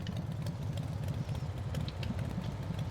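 A small motorbike engine runs steadily at a fast, even idle-like pulse, fairly loud and close, with no voices over it.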